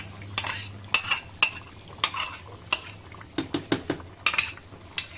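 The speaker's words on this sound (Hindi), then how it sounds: "मैं इसमें ये ब्राउन अनियन का पेस्ट ऐड करूंगी।" Brown onion paste being stirred into chicken in a pot, with roasted almonds and cashews, for restaurant-style chicken angara: a dozen or so sharp, close spoon scrapes and clinks against the pot at an uneven rhythm, with no voices.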